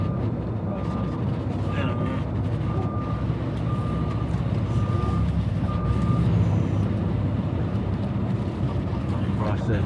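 A hauling truck backing up, its reversing alarm beeping evenly about six times over a loud rumbling diesel engine, close by.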